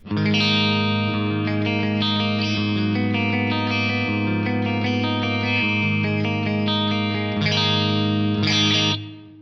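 Sustained clean electric guitar chords through a Band Commander with light compression, ringing out with a smooth, even tone and a reverberant reverb tail, played alone for several seconds.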